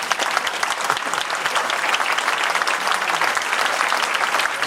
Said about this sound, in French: On applaudit les chefs.